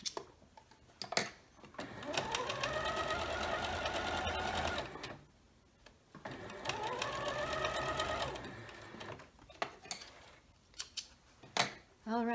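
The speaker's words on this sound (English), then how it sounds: "I'll be sewing that 1/4 inch seam allowance along that edge." A sewing machine stitches a quarter-inch seam along the edge of a scrappy quilt border block in two sustained close runs of steady whirring, separated by a pause with a few clicks and handling sounds.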